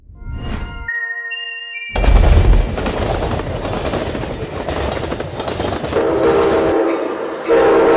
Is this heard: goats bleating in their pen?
no